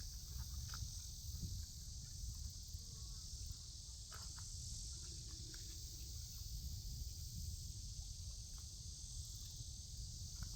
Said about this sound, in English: all those cicadas are down here too